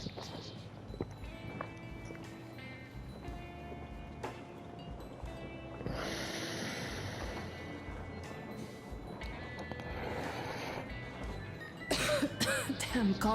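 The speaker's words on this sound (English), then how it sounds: "Damn coughing." A character in the video game Metro Exodus coughs in a harsh, hacking way, with repeated coughs and throat clearing over a low in-game ambience and scattered clanks.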